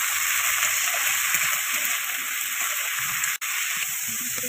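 Cabbage, salted and tossed with turmeric, frying in a hot pan gives a steady, close, even sizzle throughout, with no talk over it.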